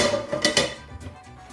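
A large metal saucepan clanks and rattles briefly, a couple of bright knocks close by, then the handling fades to a quieter shuffle.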